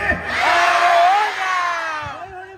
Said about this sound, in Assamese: একেলগে এবাৰ জোৰকে বোলে হৰি